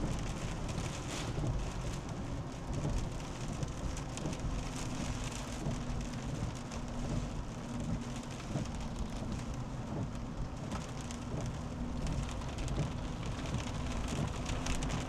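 Steady heavy rain pours during a thunderstorm in Iowa, a dense continuous hiss of drops on surfaces with low rumbling underneath, loud and unbroken throughout with no talking.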